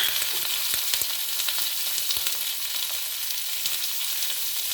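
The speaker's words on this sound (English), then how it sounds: "In the same oil I will add onion." Chopped onion sizzles and fries in hot oil for a jackfruit masala curry, a loud, steady, close crackling hiss with no voices.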